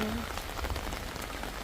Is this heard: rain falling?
yes